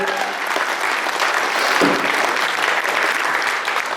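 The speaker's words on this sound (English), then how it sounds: "Give them another round of applause, everybody." A banquet crowd at the Schuyler, Nebraska Chamber of Commerce applauds in a loud, sustained, even burst of clapping that fills the whole stretch without a break.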